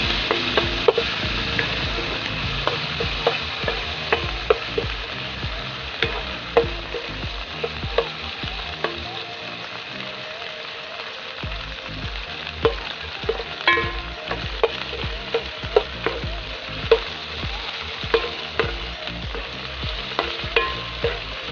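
Meat frying in oil in a pan for a crispy pork dish with sitaw: a steady bubbling sizzle punctuated by frequent sharp clacks and scrapes of a utensil stirring, with no talking.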